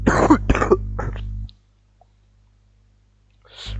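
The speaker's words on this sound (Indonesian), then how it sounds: "aduh, mau batuk." A sick man coughs and clears his throat during a programming lab lecture. A few harsh, close bursts come in quick succession, then silence, and one more short burst follows at the end.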